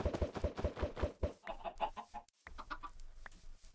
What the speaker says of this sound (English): Wow, there are just so many chickens.